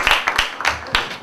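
Brief bursts of applause from an audience at a church youth fellowship debate gathering, a few short uneven rounds of clapping rather than sustained ovation.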